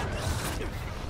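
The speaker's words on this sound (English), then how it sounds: "Reload your other gun." Weapon reload in Call of Duty: Ghosts Extinction, heard as a brief, steady mechanical rattle and creak of metal parts with no voices over it.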